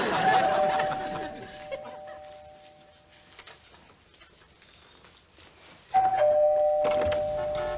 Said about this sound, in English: Front doorbell.